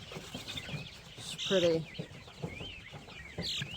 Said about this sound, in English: So, this is the Mystic Onyx chicken.